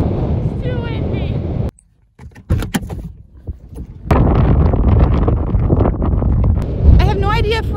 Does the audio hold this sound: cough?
no